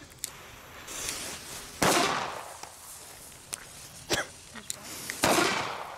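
A-Böller firecrackers from Fire Event go off one after another, a pack of six, giving several sharp, loud bangs at uneven intervals with smaller pops and handling noise between them.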